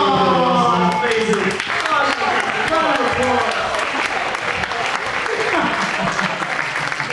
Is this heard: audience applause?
yes